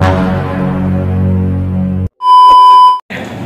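A bright electronic notification ding rings out clearly for under a second after a stretch of low, humming background noise.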